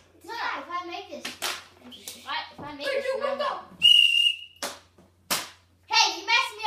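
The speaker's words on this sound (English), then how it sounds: "I said stop whistling." A single sharp, loud whistle blows briefly in a short, high, steady burst between bouts of excited child speech and hand claps.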